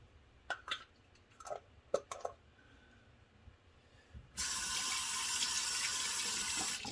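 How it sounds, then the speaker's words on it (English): Running tap water pours steadily and loudly for the last few seconds as a straight razor is rinsed beneath it, following a stretch of quiet with scattered soft clicks and handling noises. "I like to rinse my straight under running water, so there will be periodic running water in this video"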